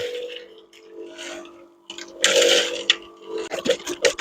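Cement being mixed by hand as small splashes of water are added, giving wet squelching, sloshing and scraping noises in uneven bursts that grow louder and more frequent toward the end.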